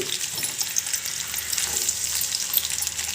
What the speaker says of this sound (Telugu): ఇప్పుడు ఆయిల్ బాగా హీట్ అయింది కట్ చేసుకున్న రెండు ఆనియన్స్ని వేసుకోండి